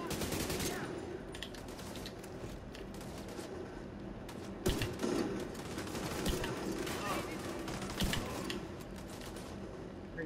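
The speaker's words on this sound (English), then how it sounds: "Y'all didn't expect a light machine gun to go off at your ass." A light machine gun in Division 2 fires long rapid bursts, loud and close, broken by a few louder shots. Voices talk through the shooting.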